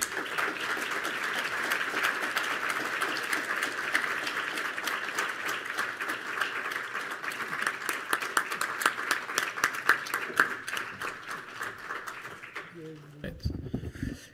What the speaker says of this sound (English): je vous invite à applaudir très chaleureusement le commander David Saint-Jacques